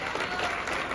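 A stand-up comedy audience at Paseo la Plaza applauds a performer, a dense, even wash of clapping that fills the whole brief moment at close range.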